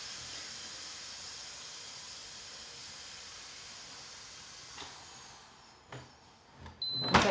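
Steam hisses steadily from a multicooker, a broad even rush that fades near the end and gives way to a few clicks and a sharp beep.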